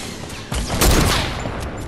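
Gunfire from an enemy player in Fortnite, a burst of rapid shots with a loud boom near the middle, moderately close and not far off, with no talking.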